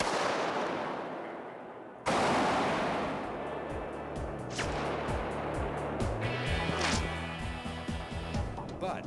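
A rifle bullet is fired inside a long room, its sharp crack landing suddenly against a noisy background, followed by rattling, clattering mechanical sounds and faint voices.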